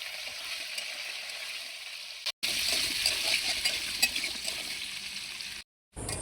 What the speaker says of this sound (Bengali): আলুগুলোকে এর সাথে আমি ভেজে নেব।